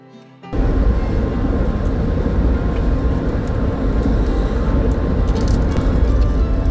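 Steady loud rumble and hum inside a moving Vande Bharat train, a dense continuous cabin roar that starts abruptly after a brief quiet moment and holds evenly, with no talking.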